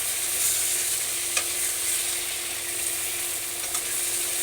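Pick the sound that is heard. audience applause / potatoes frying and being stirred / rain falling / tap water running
potatoes frying and being stirred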